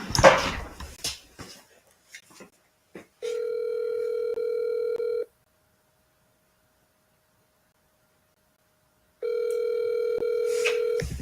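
Telephone ringback tone during an outgoing call, two long steady electronic ring bursts separated by a silent gap, following a brief stretch of clicks and handling noise.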